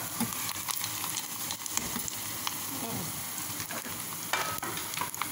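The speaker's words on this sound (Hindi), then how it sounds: "असली घी का तड़का जो ताकतवर होता है" Close, steady sizzling of ghee and cumin tempering in a pan, crackling and popping continuously with occasional sharper spits.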